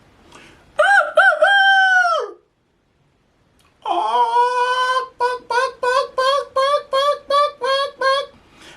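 A rooster crows loudly and close: one long drawn-out call, a pause, then a longer crow broken into a rapid series of short, even bursts.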